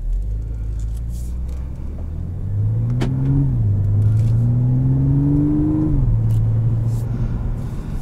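A 2013 Audi S5 with an automatic Tiptronic gearbox in sport transmission mode accelerates hard from inside the cabin, its engine note climbing steadily through two upshifts, loud and continuous.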